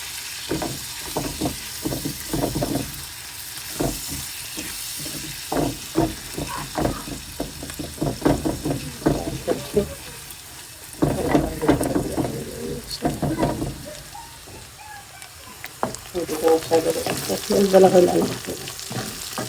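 Onions fry in a pan for a home-cooked meal with red greens, giving a steady sizzle broken by repeated scraping stirs of a spatula, with a few brief spoken words.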